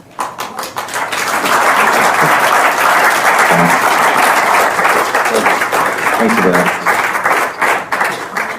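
Audience applause after a film screening of Half of a Yellow Sun, loud, dense and sustained for several seconds, swelling in and fading slightly at the end.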